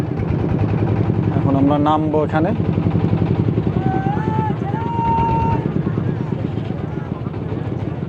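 A motorboat engine on the Padma river drones steadily and close as the boat pulls in to a boat stand, while people talk over it.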